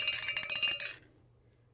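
Big metal bells decorated with dwarf figures jingle and clink close by as they are handled, a rapid cluster of bright rings lasting about a second before falling quiet, then a faint bump.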